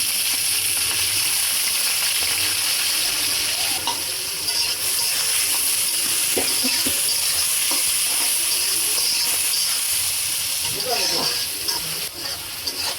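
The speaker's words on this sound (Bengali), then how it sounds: "পেঁয়াজ মরিচে হালকা ভাজা ভাজা করে নেই" Onion and green chili fry steadily in hot oil with cumin seeds, a dense continuous sizzle with occasional stirring scrapes. It stays close and loud throughout and carries no clear speech.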